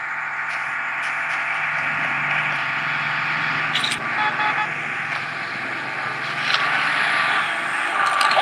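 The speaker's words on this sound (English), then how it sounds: "The airdrop is coming." Airdrop plane droning overhead in the Call of Duty Warzone Mobile battle royale, a steady broadband engine hum holding at an even level throughout, with faint interface blips and clicks on top.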